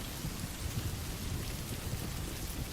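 Steady, dense rainfall pours on surfaces in a relaxing, constant wash of noise, with no distinct drops standing out and no voices.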